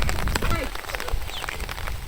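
A brief afternoon rain shower patters steadily on surfaces in a village, with a voice talking over it.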